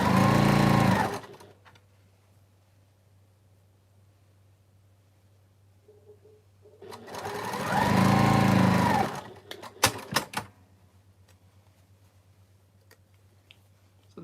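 A sewing machine stitches fabric in two sustained runs, each a steady close whirring hum lasting a couple of seconds, separated by quiet stretches with faint handling clicks.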